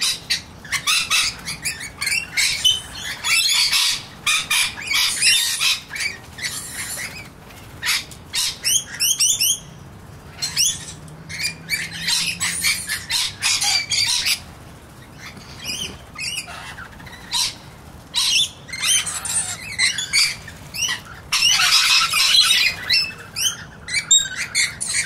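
Noisy miners calling at a bird sanctuary, a busy, continuous chorus of sharp chirps, squawks and rapid chattering bursts from several birds close by, with brief pauses between flurries.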